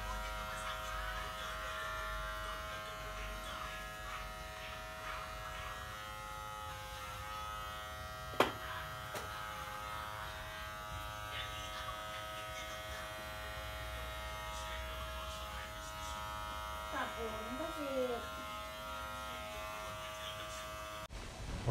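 Kemei PG 1990 electric hair clipper cutting hair, a steady close buzzing hum that runs unbroken for the whole stretch with one brief sharp knock partway through.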